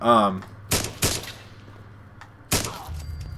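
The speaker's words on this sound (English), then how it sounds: "I'm surprised that took 2 shots." Gunfire from a scoped rifle in the video game Fallout 4, several sharp loud shots with a reverberant tail, one pair close together and another after a pause, with a voice briefly heard at the start.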